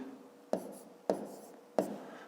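A pen scratches across paper in three short, distinct strokes while a sum is written down, close and fairly quiet, with no talking.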